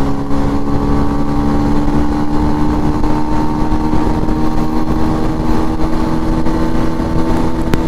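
A 2024 Bajaj Pulsar 125 motorcycle engine roars steadily at high revs during a top speed run, loud and close, a dense droning buzz that holds without pause.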